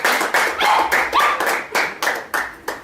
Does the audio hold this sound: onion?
no